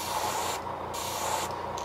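Steady close hiss of spray paint coating a blank fishing lure, in short continuous bursts with brief pauses, no talk.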